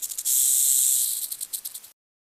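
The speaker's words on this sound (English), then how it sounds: "This is the sound a snake makes." A snake gives a sharp, airy hiss, sustained for about a second and a half, then breaking into a few shorter pulsing bursts before stopping into silence.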